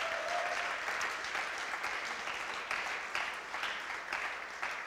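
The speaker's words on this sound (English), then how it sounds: "Could you guys give them just a real quick round of applause?" A church congregation applauds the musicians with a dense, even round of clapping that holds steady throughout, fairly distant and moderately loud, with no talk over it.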